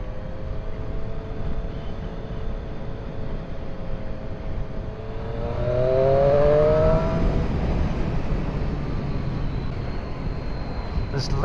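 2017 Triumph Street Triple RS motorcycle fitted with an aftermarket Arrow exhaust, riding with a steady engine drone and wind rush that swells as the revs climb midway, with a rider talking over it.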